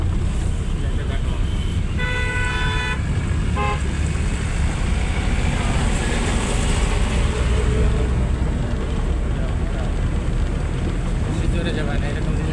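A car drives steadily during a driving lesson, its engine and road rumble constant and close with wind noise over the microphone, a short horn-like toot sounding early on.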